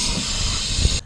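O'Reilly brake cleaner sprayed from an aerosol can onto car parts during a Chevy Impala radiator replacement, one steady close hiss lasting about a second before cutting off abruptly.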